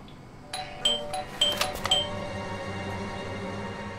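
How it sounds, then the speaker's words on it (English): A video game doorbell chimes a few bright tones over a low, steady background hum, then fades into quiet ambience. "I thought I should use the doorbell so I wouldn't startle you"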